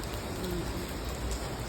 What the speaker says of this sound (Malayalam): 2 ദിവസമായിട്ട് നിർത്താതെ പെയ്യുന്ന മഴയാണ്